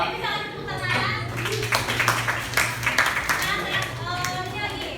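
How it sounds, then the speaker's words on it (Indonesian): A classroom of students clapping their hands in a counseling lesson, a burst of scattered claps mixed in with children talking and a teacher's voice. "Jadi bisa kan tepuk tangan."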